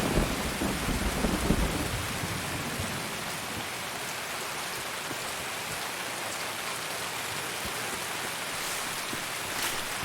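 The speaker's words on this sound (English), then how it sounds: "Rain's too loud?" Steady rain and rolling thunder fill a stormy raid in the shooter game Escape From Tarkov, a dense continuous hiss with a louder rumbling swell near the start.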